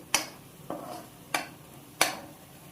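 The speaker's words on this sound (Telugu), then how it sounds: "కొంచెం కారం స్మెల్ పోయేంత వరకు వేపుకోండి." Chili powder being fried with cauliflower for a curry, stirred in a pan: four sharp spatula scrapes and clinks spaced about half a second apart over a faint low sizzle, close by, with no talk.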